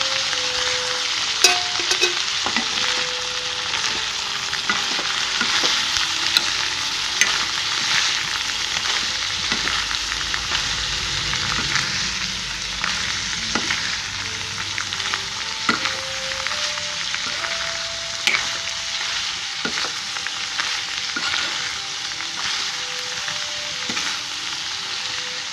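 Pointed gourd (parwal) frying in a pan, a steady dense sizzle and crackle with occasional stirring scrapes and taps, close and continuous throughout with no talk.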